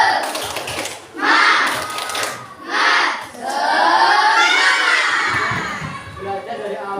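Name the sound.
children doing a spirit clap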